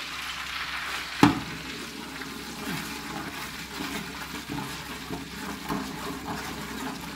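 Butter sizzles in hot coconut oil in a pan, a soft continuous frying hiss with one sharp clatter near the start, steady and fairly quiet, with no talk.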